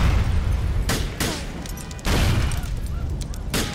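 Explosions in the video game GTA 4 burst out as several sharp, loud booms over about four seconds, each standing out against a constant background of game noise.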